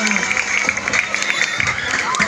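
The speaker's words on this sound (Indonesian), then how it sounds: "tepuk tangan buat penabuh" Musicians at a Balinese comedy performance get applause and cheering from an audience, busy clapping and crowd noise with voices mixed in over a short burst.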